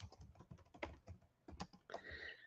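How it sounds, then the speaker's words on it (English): Typing on a computer keyboard, a run of quick irregular key clicks close by, with a faint tonal hum entering near the end. "All right, so I'm going to type her name in."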